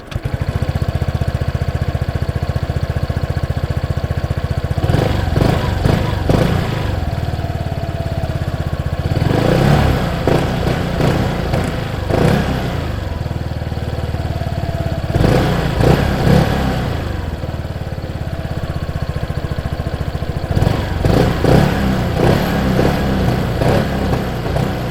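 A 2025 Voge SR16 125cc scooter engine runs close up, a steady idle broken by several throttle blips that rise into buzzing revs and drop back, with no voices.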